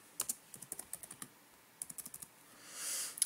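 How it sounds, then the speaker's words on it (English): Quiet typing on a computer keyboard, two bursts of quick irregular key clicks separated by a short pause, then a soft rising swell and a final pair of clicks, close and alone. "you'll click the tab key on your keyboard"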